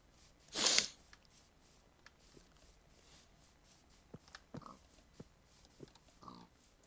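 In Minecraft, a pig gives a short snorting oink close by, followed by quiet, scattered grunts and light footsteps against a near-silent background.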